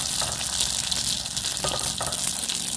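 Batter for bánh tai yến frying in hot oil gives a steady, close crackling sizzle that holds evenly throughout, with no talking.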